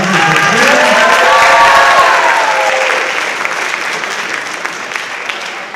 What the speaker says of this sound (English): Let's give these students another round of applause